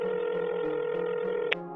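An outgoing phone call ringing, a steady electronic ringback tone sounding continuously, close and clear, ending with a short click.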